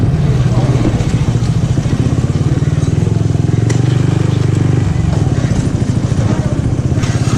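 Motorcycle ridden slowly over a bumpy, pothole-filled off-road track near Pelhar dam; the engine putters loud and close with a steady pulsing beat, surging and dipping with the bumps, while a voice talks over it.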